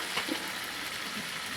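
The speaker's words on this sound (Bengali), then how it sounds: "এই যে মাংসটা কষাচ্ছি, এখনো হয়নি কষানো।" Meat pieces for a Bengali chicken curry sautéing (kosha) in a pan, giving a short, steady hiss of sizzling with a couple of soft spatters.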